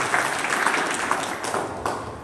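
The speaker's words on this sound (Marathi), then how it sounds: "त्याच्यासाठी सुद्धा टाळी वाजवून स्वागत केलं" An audience in a hall claps to welcome a young mridangam player, a brief burst of scattered, moderately loud applause with a few sharper claps standing out.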